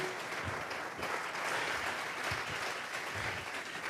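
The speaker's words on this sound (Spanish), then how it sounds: "Le vamos a regalar una ofrenda de palmas al Dios de la gloria" Steady applause from a church congregation during a service, dense and continuous clapping filling the room for several seconds with no voices over it.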